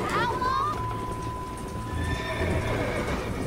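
Horse whinnying in the Red Dead Redemption video game, a single rising neigh near the start with hoof clip-clop and game background sound running underneath, close and fairly loud.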